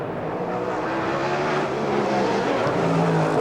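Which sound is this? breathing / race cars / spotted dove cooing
race cars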